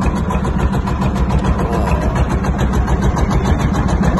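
A small fishing boat's engine runs steadily on the Jingkem river, a loud close mid-pitched chugging drone with a constant rhythmic pulse and no talking.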